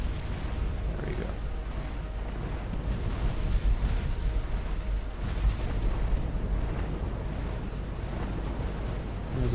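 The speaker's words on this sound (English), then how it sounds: "There's a bunch of autocannons on the sides as well" Ragnarov Titan cannons and autocannons firing in Sins of a Solar Empire: Rebellion, a dense, continuous rumble of booming space-battle weapon blasts layered with sustained explosions, loud throughout.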